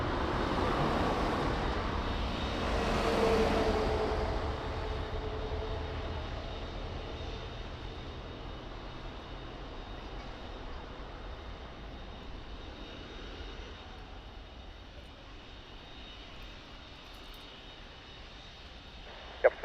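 A Falcon jet aircraft roars at Lisbon Airport, its engine noise loud at first and then fading to a steady, distant rumbling whine with no voices.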